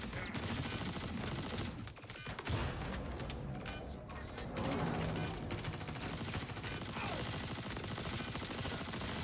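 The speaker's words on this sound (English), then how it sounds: "and then they all start shooting." Dense gunfire in the Star Citizen space game, a rapid rattle of automatic shots and bursts that runs steadily throughout at moderate level.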